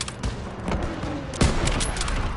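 Dense rifle fire crackles through a D-Day battle in a war video game, with overlapping shots in quick succession and one heavier close blast midway, a steady loud roar of combat underneath.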